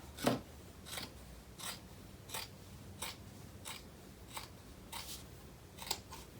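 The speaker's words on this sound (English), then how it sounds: "you can use your scissors and just eyeball and cut like this" Crisp scissor snips cutting a strip of cotton fabric, about a dozen evenly spaced cuts in a steady rhythm, close and fairly quiet.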